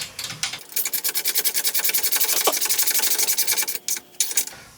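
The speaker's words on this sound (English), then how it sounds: "So now you get some tension on it. And this is a 19 ratchet wrench." A 19 ratchet wrench tightening a ball joint nut on an ATV A-arm, clicking in a fast, even series of ratchet strokes up close, with a short pause before a few final clicks.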